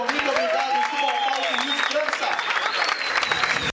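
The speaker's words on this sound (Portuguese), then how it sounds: "saindo um aplauso ainda" Audience applause fills a stand-up comedy open mic show, a dense steady wash of many hands clapping at close range for several seconds, with a voice talking over it and some whistle-like tones rising through the noise.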